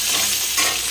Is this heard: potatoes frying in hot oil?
yes